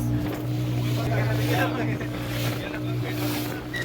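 Motorboat idling and humming near a beach at Malvan as it arrives for parasailing, a steady low engine drone with wind and water noise, a voice talking over it.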